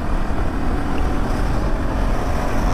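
A 2024 KTM Duke 390 motorcycle engine cruising on the highway at about 6000 RPM gives a steady, loud drone mixed with heavy wind rush, with no voices.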